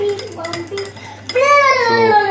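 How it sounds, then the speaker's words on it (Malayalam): A spoon clinks against a glass while sugar is stirred into absinthe, with a few sharp taps followed by a bright, ringing tone; a voice can be heard at the same time. "സോ അതിനകത്ത് ആ കയ്പിനെ ഒന്ന് ജസ്റ്റ് ഒന്ന് കൺട്രോൾ ചെയ്യുക എന്നുള്ള കൺസെപ്റ്റിൽ നമ്മൾ ഷുഗർ ഇട്ട് കലക്കുകയാണ്"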